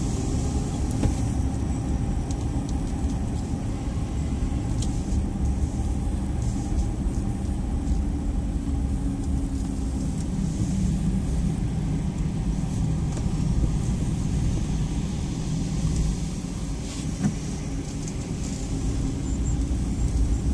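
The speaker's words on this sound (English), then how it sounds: "That was a lap around the Indianapolis Motor Speedway." A car lapping the Indianapolis Motor Speedway, with a steady engine drone and road rumble running continuously and fairly loud throughout, with no distinct changes.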